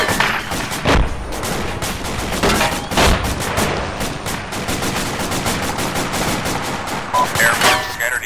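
Rapid bursts of gunfire and machine-gun fire ring out in a military video game, loud sharp volleys repeating throughout with scattered louder shots close by.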